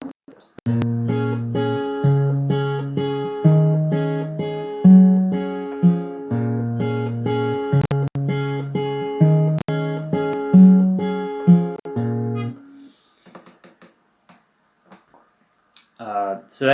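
Acoustic guitar plays the intro of Star Of Wonder alone, a steady picked pattern of bass notes and chords in waltz-like groups for about twelve seconds, then fades out to near silence.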